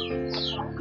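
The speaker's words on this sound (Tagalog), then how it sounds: "Uy, may manok." A single short cluck from a nearby chicken, a brief clear call standing alone against a quiet background.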